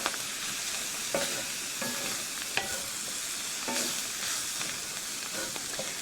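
A tablespoon of flour is stirred into sizzling mushrooms in a frying pan for beef stroganoff, with a steady soft sizzle under repeated scraping strokes of a utensil against the pan at an irregular rhythm.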